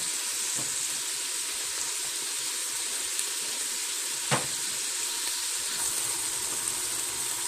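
Onion sautés in pork grease in an Instant Pot, a steady close sizzle and hiss running evenly throughout, with one brief clink partway through.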